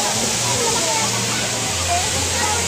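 Batlag waterfall at Daranak Falls roars as a dense, steady rush of water, loud and close, with a person talking faintly underneath.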